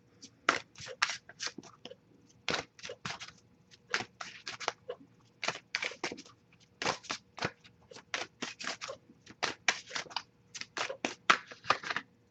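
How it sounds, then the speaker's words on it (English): A tarot deck is shuffled close by, its cards riffling and slapping in quick uneven bursts with brief gaps, crisp and papery throughout, with no voices. "Let's shuffle a bit more."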